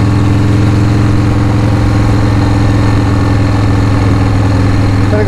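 A 1980 Harley-Davidson FXEF Shovelhead motorcycle engine idles steadily up close, a loud, constant low throb with no voices.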